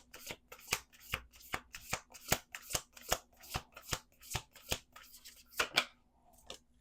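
Close, steady shuffling of a deck of playing cards, a long run of quick rhythmic riffles and crisp card snaps that stops near the end, leaving a short quiet tail.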